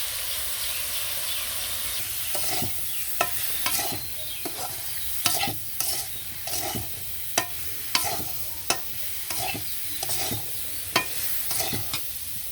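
A brinjal curry with salt, spices and chili fries in a pan under a constant sizzle, with a spoon or spatula scraping and knocking against the pan roughly every second, close and steady.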